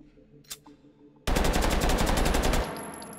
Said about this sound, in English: This thing just shoots. This thing just spits out bullets.